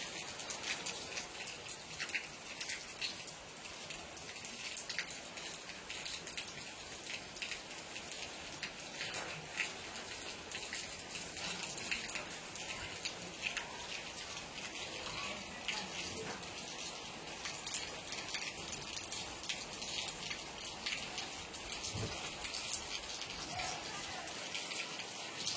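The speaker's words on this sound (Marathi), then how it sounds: "बघा किती जोरदार पाऊस आलाय." Heavy rain pours at Kankeshwar temple in Alibaug, a dense, steady hiss of downpour on surfaces that holds loud and unbroken from start to finish.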